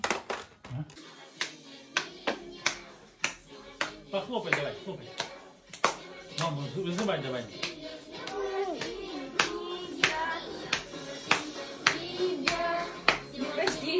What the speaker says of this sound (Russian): Похлопай давай, хлопай.